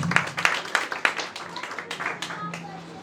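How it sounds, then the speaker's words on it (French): A graduation ceremony audience at a beauty institute clapping in a short, fairly faint burst of scattered handclaps, heard under and between a speaker's voice. "Applaudissez madame Joseph."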